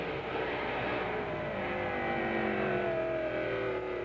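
Monster trucks racing side by side at the 1995 PENDA Monster Truck Challenge in Springfield, Missouri, engines roaring and revving continuously in a loud, sustained drone without pause.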